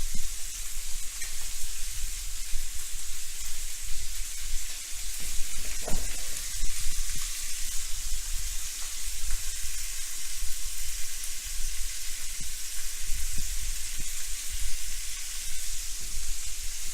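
Chicken pieces browning in a hot pan for a French Basque-style chicken stew give off a steady, close sizzle and hiss that runs unbroken throughout, with a brief clatter partway through.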